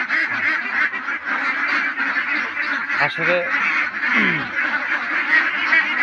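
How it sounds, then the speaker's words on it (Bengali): Ducks quack and honk in a continuous, close noisy chorus, with a brief spoken word mixed in. "হাঁস আছে।"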